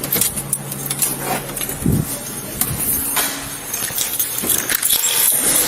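Vehicle keys jangle in a police station setting, a few metallic clinks and rattles over background room noise and faint movement, fairly close.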